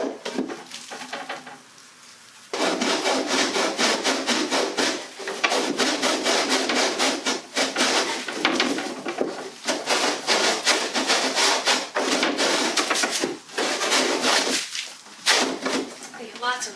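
Rhythmic back-and-forth rasping strokes of a handsaw cutting through a wooden boat hull, loud and close, with brief pauses between runs of strokes.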